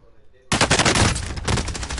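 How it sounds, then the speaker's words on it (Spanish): After a quiet moment, a loud burst of rapid video game gunfire erupts abruptly and keeps going in quick, dense shots. "Tiró un par de tiros."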